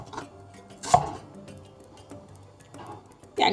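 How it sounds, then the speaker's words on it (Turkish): Celery root is cut into large pieces with a cutting tool on a board, a few sharp, separate knocks spaced irregularly in a quiet kitchen, with no talk over them. "Yine böyle aparatımla daha güzel görünmesi için kesiyorum."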